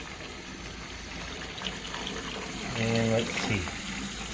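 A hot water tap in a home sink is turned on slightly, giving a steady, quiet stream of water with a brief louder gush under a short spoken remark.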